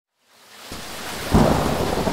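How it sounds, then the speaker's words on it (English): A thunder sound effect in a children's story swells from silence into a deep, rolling rumble with a louder crack partway through, mixed with rain-like hiss, close and full. "until they heard the thunder. Oh, thunder's unnerving."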